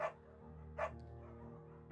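A beagle barks in the video game Firewatch: two or three short, sharp, fairly faint barks spaced out, with a soft low hum underneath.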